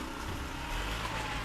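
A truck passes on a road in Jamaica, a steady low rumble of its engine and tyres that swells slightly midway and stays close throughout, with no talking.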